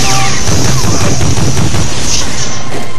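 Dense, loud automatic gunfire from a machine gun in the PS2 shooter Medal of Honor Frontline, rapid overlapping shots and booms filling the whole stretch with no pauses.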